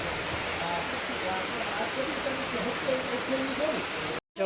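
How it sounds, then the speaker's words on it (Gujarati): Heavy downpour on a roadside during a Rajkot to Mahuva journey, with water running along the ground, a loud continuous wash of noise that holds steady before cutting out abruptly near the end, faint voices beneath. "વરસાદ બહુ બહાટી આવવા માંડ્યો છે"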